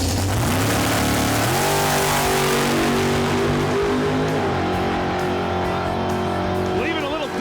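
A 1968 Six Pack Barracuda launches on a drag strip, its engine roaring loudly and climbing through revs with gear changes as it pulls away, close and powerful over crowd and commentary.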